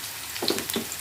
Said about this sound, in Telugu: ఉల్లిపాయ బాగా వేగాలి.